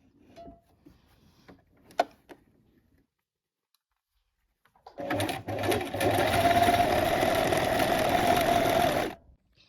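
A sewing machine stitches a trouser waistband in one steady run of about four seconds, close and moderately loud, after a few faint handling clicks and a stretch of quiet.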